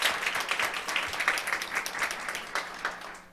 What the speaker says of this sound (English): if you could join me in a round of applause for Arafat.